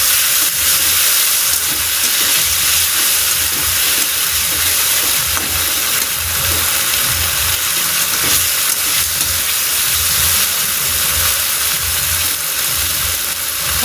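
Spices cooking in a pan sizzle and hiss loudly and continuously once water is added for a Bengali rice muri ghonto, a dense steamy frying sound with no voices.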